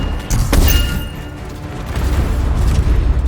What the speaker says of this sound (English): Explosives ready. Stand clear for detonation.